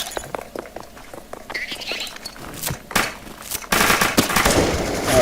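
Gunfire from a match of the Counter-Strike: Global Offensive video game, with rapid clicking shots and footsteps building to a louder, denser burst of automatic fire near the end, and a voice faintly in the background.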